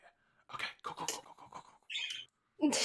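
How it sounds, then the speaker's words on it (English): Small bird chirping indoors, a few short sharp calls scattered among other quiet room noises, near and fairly faint. "you can hear the bird"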